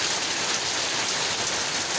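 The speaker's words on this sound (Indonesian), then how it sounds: "Hujan mas bro." Steady rain falling during a planned fishing day, a dense even hiss of drops hitting surfaces, continuous and close for the whole stretch with no voices.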